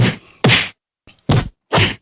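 Four sharp, heavy thwacks land in quick succession, punchy close-up impacts like blows in a fight scene, with short silences between them.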